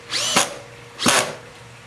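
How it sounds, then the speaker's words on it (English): Power drill driving screws into a horizontal surface-mount lock, two short whining bursts with a pause between, each ending in a sharp crescendo as the screw seats, close and loud. "So just go ahead and put as much pressure on the back of the drill as you can, and proceed to go forward."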